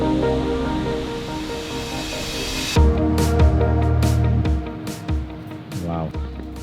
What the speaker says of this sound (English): the water goes down into the ocean